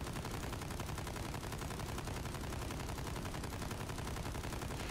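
The JAK Protean LMG fires in a shooter video game as a continuous, rapid automatic burst. The shots are loud and unbroken throughout, with no talking.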